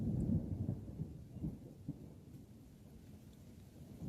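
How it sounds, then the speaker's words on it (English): Thunder rumbles through a hard rainstorm in Southern California, a deep, rolling low roar that swells at the start and then fades into a softer, steady rumble with rain hiss. "Thunder."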